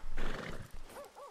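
Horses whinny in a Western roleplay video game town, a busy burst of neighing and hoof clatter followed by two shorter, rising whinnies standing out clearly near the end.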